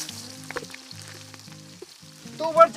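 Ingredients sizzling in hot soybean oil with ginger, scallion and garlic in a kitchen pot, a steady close frying hiss with light stirring clatter that swells louder near the end.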